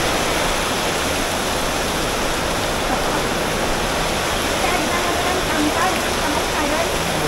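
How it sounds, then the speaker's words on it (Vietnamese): Dense, loud broadband rush of heavy rain and flowing water in Nha Trang, continuous and close throughout. "Quá trời đất mưa khủng khiếp."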